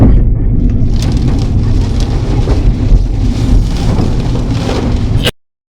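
Heavy rain pours during a scooter ride on a hill road with hairpin bends, a loud, dense, continuous hiss mixed with wind rush that stops abruptly at the end.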